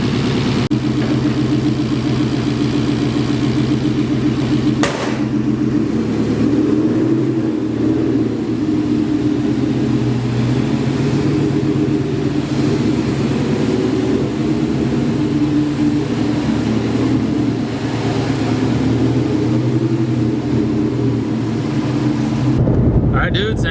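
A car engine fitted with 1050X injectors hums at a steady mid-pitched drone while the car cruises gently, with road rumble beneath it and little change throughout.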